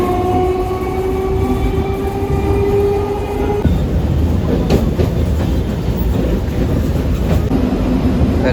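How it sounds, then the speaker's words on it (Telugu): A train pulls into a station on the way to a cricket match at Chepauk, its horn sounding long and loud before giving way to the heavy rumble and clatter of wagons passing close by. "మన ట్రైన్ వచ్చేసింది."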